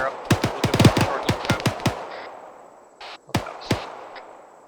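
Machine gun fire in the military game ArmA 3: a rapid string of loud, sharp shots, then a pause and two more separate cracks, with a faint radio-like hum in the background.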